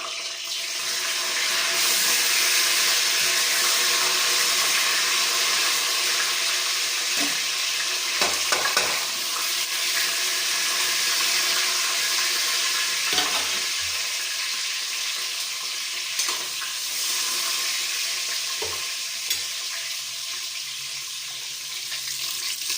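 Pulao spices with cinnamon, cloves, onion, garlic and green chillies frying in oil, a steady loud sizzle with occasional stirring clicks and scrapes throughout.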